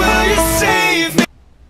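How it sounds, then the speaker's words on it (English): A guitar plays a short, dense burst of a song's pre-chorus, loud and close, with sustained overlapping notes that cut off sharply into silence. "So all together, the pre-chorus sounds like this."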